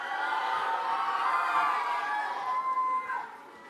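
An audience at a live school event cheers and shouts loudly for several seconds with children's voices mixed in, then the noise tapers off toward the end.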